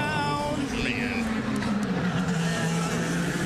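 Ryan Hunter-Reay's race car engine runs loud and steady through a corner after a missed braking point, a sustained droning whine with a slight pitch sweep, with a commentator's voice faintly underneath.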